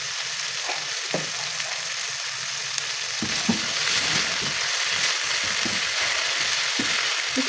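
Sardines and cabbage sautéing in a pan give a steady close sizzle, broken by scattered clicks and scrapes as the mixture is stirred.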